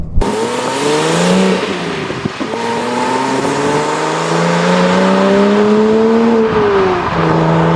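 A Porsche Cayman 987 with the 2.9 engine revs high and loud on the road, its tone climbing through the gears with a short dip at each shift, steady and up close.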